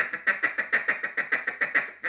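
A voice mimics a duck call with a quick, even series of about a dozen nasal quacks, close and clear.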